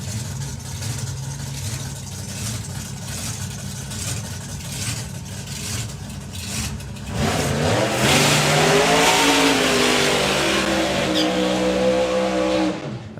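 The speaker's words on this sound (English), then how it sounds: "And side-by-side burnouts." Two supercharged small-block nostalgia drag cars do side-by-side burnouts at a drag strip. A loud engine rumble rises partway through into sustained high revving with a tire-spinning roar that holds until the end.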